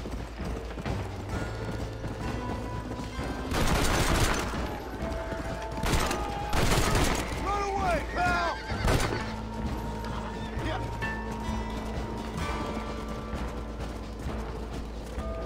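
Horse hooves gallop in the Red Dead Redemption video game, a steady clip-clop running under music and game effects, with a few louder bursts and creaks along the way.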